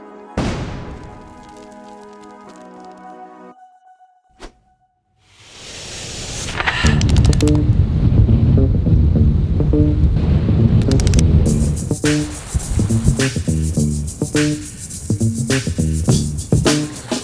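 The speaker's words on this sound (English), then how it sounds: "It's been blowing 20 sustained up to 30, 35 all night." Strong wind gusts over a sailboat lying at anchor in Greece, with a loud rushing roar that builds and beats against the microphone. It follows a quieter stretch of tonal sound with a sharp knock.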